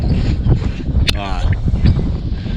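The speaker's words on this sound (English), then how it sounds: "It's windy as fuck out here" Strong gusty wind roars and buffets a microphone outdoors beside an asphalt-paver-damaged truck, a low rumbling rush throughout while someone talks over it.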